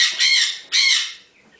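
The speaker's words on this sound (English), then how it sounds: "Those are my conures. Let them out so they stop squawking." Pet conures in an indoor animal room give two loud, harsh squawks in quick succession, shrill and close, with a fainter call trailing after.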